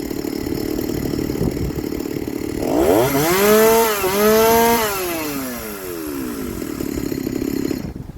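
A ported Shindaiwa 390sx chainsaw revs up to full power and holds at a loud, high pitch for a couple of seconds, then winds down again, with a steady engine idle before and after.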